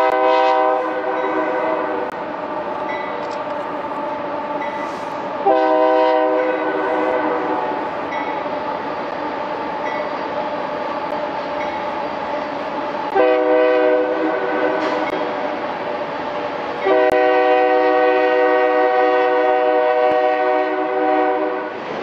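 A Union Pacific train horn blares in long sustained blasts, repeated several times, over the rumble of a train passing nearby through a canyon.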